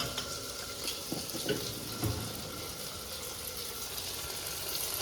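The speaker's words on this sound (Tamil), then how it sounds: "தக்காளி போட்டாச்சு தக்காளி நல்லா வதங்கட்டும்" Steady sizzling of tomatoes frying in a pan, with a few soft stirring clatters over the continuous hiss. No voices.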